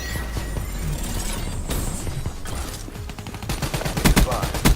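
Rapid bursts of automatic gunfire from the player's weapon during a Black Ops 3 Team Deathmatch match, loud and close, with the shots growing denser and sharper toward the end.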